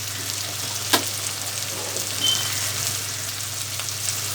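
Chicken seasoned with salt and turmeric frying in a pan, a steady close sizzle with a sharp spatter pop near the start and faint stirring scrapes, no voices.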